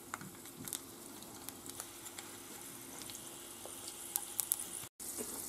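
Garlic and chili pepper fry in hot oil in a pan, giving a steady soft sizzle with light crackles and occasional stirring taps, close and continuous throughout.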